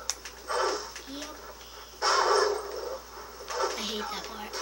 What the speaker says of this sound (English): Oh, attack dogs.